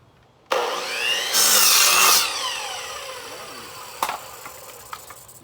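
Long pieces of wood being cut with a saw outdoors: one loud stretch of rasping, steady sawing that stops abruptly, followed by a few scattered knocks and quieter handling sounds.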